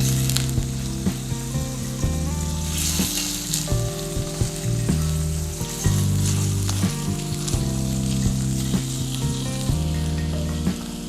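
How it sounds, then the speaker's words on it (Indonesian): Spices sauté in a hot pan until lightly browned for a duck gulai, giving a loud, continuous sizzle and crackle that runs the whole time, with faint stirring scrapes and no voices. "Ini kita masak, tumis sampai dia agak sedikit kecoklatan supaya keluar rasanya."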